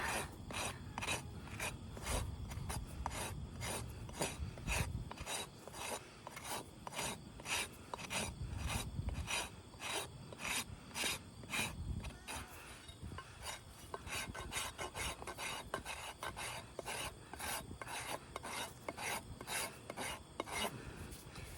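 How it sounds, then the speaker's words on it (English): A steel hoof rasp files a horse's hoof during a between-trims touch-up, trimming flared heels: steady, close scraping strokes in a fast repeating rhythm, heard alone. "So really the majority of the work can be done by your rasp."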